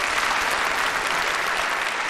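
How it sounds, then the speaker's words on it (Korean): A large hall audience at a North Korean ceremony honouring sports champions and coaches breaks into loud, sustained applause, a dense and continuous roar of clapping. "박수를 보냅시다."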